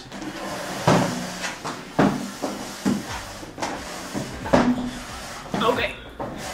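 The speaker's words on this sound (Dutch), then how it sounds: "De stoel die kraakt." A chair creaks at home during a meal: a series of dry woody creaks and knocks, spaced irregularly over steady background noise.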